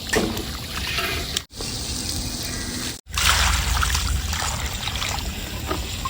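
Coriander rinse water pours into a cooking pot of country chicken biryani in a steady, fairly loud rush, broken twice by brief silences, with no voices.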